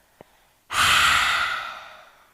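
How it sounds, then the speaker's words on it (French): One long breath pushed out through the mouth during a yoga exercise, a breathy whoosh that starts abruptly after a tiny click and fades over about a second and a half. "on expire par la bouche"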